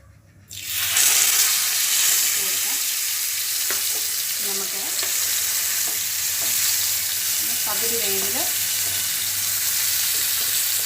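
Pearl spot fish (karimeen) shallow-frying in hot oil in a pan: a loud, steady, close sizzle starts abruptly and holds throughout, with faint scraping and bubbling bursts inside it and no one speaking.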